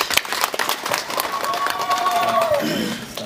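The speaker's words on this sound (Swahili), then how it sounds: "Tumpigeni makofi wananchi." A crowd claps in a burst of scattered applause, loudest at the start, with a sustained voice-like tone rising over it before fading.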